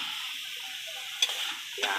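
Bean sprouts frying in a pan, stirred with a couple of brief utensil scrapes over a steady, moderate sizzle, with no talking.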